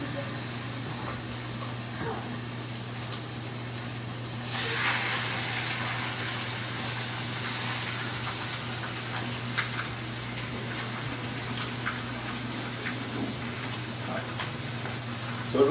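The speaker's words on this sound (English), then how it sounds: "we're going to put the breast down first because we really don't want to cook the breast again because it'll get tough. We just want to go ahead and render the fat." Chicken adobo pieces laid breast-side down browning in oil and rendering their fat, a steady soft sizzle over a constant low hum, moderately quiet and unbroken, with no clear talking.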